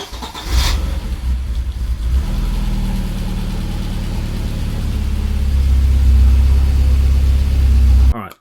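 A Porsche 924 engine cranks and catches after a sharp click, then settles into a loud, steady rumbling idle that swells slightly before cutting off abruptly.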